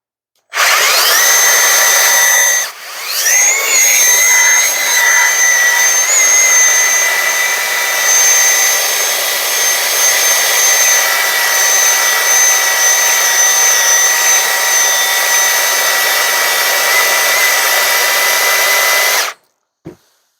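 A Milwaukee M18 cordless belt sander runs continuously on a deck board at close range, loud and steady with a high whine, briefly dipping early on before grinding on until it stops.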